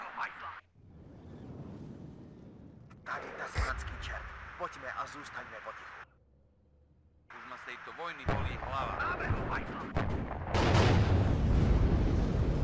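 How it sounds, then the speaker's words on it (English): Rocket artillery barrages in the WARNO strategy game, heavy rumbling launches and blasts swelling in repeated waves, loud and close, with quiet gaps between bursts. "I should probably bring in the rocket artillery as well."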